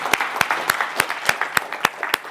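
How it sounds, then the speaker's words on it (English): Sparse applause closes a conference panel on ICO marketing, a handful of loud, distinct claps in a loose regular rhythm over a softer background patter, with no voices. "big round of applause for the panel"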